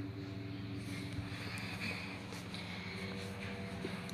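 A brush cutter engine running at high revs while trimming roadside verges, a steady high-pitched two-stroke whine holding constant at moderate distance, with no talking.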